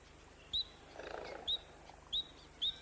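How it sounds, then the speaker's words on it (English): Calls of a tree creeper and a red-browed finch in Australian rainforest: four short, thin, high chirps spaced about a second apart, with a soft low murmur between them over a faint, steady background hum. "This tree creeper is joined by a red-browed finch,"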